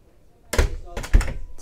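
A wardrobe door aboard a Sunreef Power 100 superyacht makes two close, solid thumps about half a second apart, like a door being opened and then shut, in an otherwise quiet cabin.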